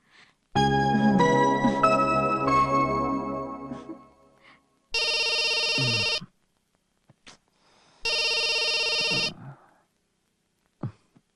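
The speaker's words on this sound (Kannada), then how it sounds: "ಆನಂದಗ್ ಫೋನ್ ಮಾಡಿ ತಮಾಷೆ ಮಾಡಿದ್ರೆ ಹೇಗೆ?" A telephone rings with a musical tone melody, then gives two loud, steady electronic ring bursts separated by silence, heard close up with no talking.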